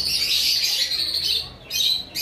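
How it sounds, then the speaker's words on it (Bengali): An adult male-and-female pair of pet birds kept on a balcony call steadily, filling the air with close, loud, high chirping that barely pauses. "এখানে একটা পেয়ার পাখি রয়েছে"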